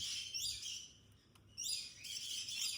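Small birds chirp and tweet in quick high bursts, fairly soft and close, with a short lull between flurries.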